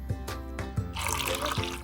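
Liquid is slowly poured into a cup over an egg, a close trickling and splashing that starts after a few soft knocks and continues steadily to the end.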